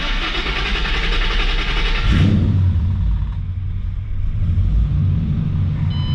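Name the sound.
2009 Ford Mustang GT 4.6L V8 engine idling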